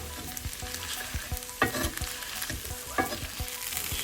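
Corned beef hash with potatoes sizzles on medium-high heat, a steady hiss broken by rhythmic scrapes and taps of a spatula pressing and flattening it in the pan.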